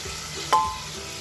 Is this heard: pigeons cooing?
no